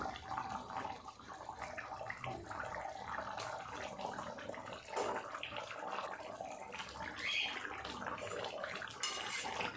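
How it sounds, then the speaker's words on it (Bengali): Bhetki fish curry gravy boils in a pan with a continuous soft bubbling and simmering hiss, steady and close throughout. "ঝোলটা খুব ভালোভাবে ফুটে গেছে দেখুন।"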